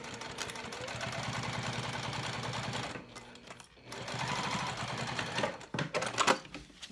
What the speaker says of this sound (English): I'm just gonna stitch across the top here. I'm gonna use 1/4 inch seam allowance.